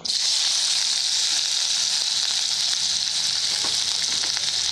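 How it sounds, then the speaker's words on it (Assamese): Chopped onions hit hot oil left over from frying potatoes and give a loud, steady, close sizzle with a dense crackling hiss that never lets up. "ৰৈ যোৱা তেলখিনিতে মই এয়া কাটি লোৱা পিঁয়াজ দিছোঁ।"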